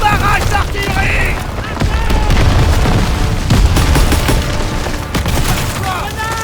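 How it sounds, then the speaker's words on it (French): An artillery barrage with gunfire in a Call of Duty WWII battle, heavy booms and rapid shots crackling continuously, loud and close, with shouted voices mixed in. "Barrage d'artillerie!"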